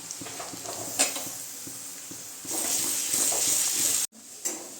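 Kasuri methi and crushed garlic frying in a hot pan, a steady sizzle with occasional scraping stirs and a brief utensil knock, rising louder partway through, then a sudden short break before the frying resumes.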